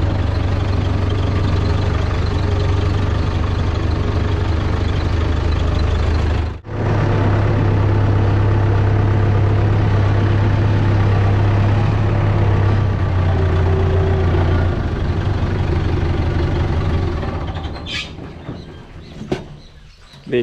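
A large farm tractor engine idling beside a barn, a loud steady low rumble that holds for most of the stretch before fading near the end, with a brief cut partway through.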